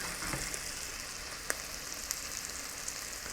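Thin flounder fillets frying in butter in a pan give a steady, close, crackling sizzle with occasional small pops, and no one speaks over it.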